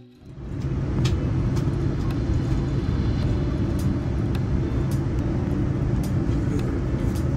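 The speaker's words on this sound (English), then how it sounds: "The spool up and takeoff are next." An Etihad Boeing 787 spools up its engines for takeoff from Abu Dhabi, heard from the cabin as a deep roar that swells quickly in the first second and then holds loud and steady, with no talking.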